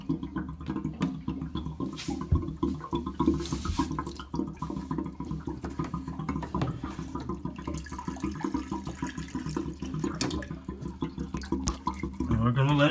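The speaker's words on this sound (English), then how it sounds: "And we're going to let it drain." Water draining from the drain valve of a hot water heater, a continuous splashing rush with irregular gurgles, moderately close, with someone talking over it intermittently.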